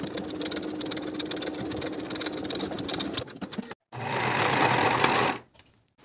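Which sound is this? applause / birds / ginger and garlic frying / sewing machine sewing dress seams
sewing machine sewing dress seams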